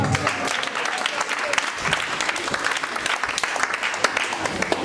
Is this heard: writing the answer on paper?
no